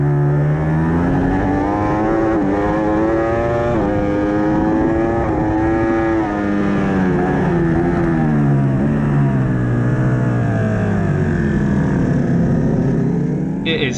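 A Ducati Panigale V4 races at Donington, the engine loud and close with rising and falling revs through gear changes, the note dropping steadily toward the end.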